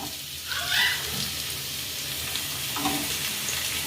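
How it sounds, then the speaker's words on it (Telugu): Onions frying in hot oil in a pan for a Srikakulam-style egg and garlic chili curry, a soft steady sizzle heard close with a couple of faint stirring scrapes and no talk. "ముందైతే ఉల్లిపాయలు గోల్డెన్ కలర్ వచ్చినట్టు వరకు వేయించుకోవాలి"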